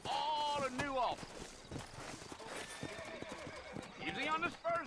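Horses in the video game Red Dead Redemption whinny loudly twice, once at the start and again near the end, with rhythmic hoof clip-clops and other soft movement sounds in between.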